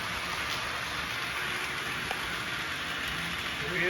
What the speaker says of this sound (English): It's a rainy day in Georgia.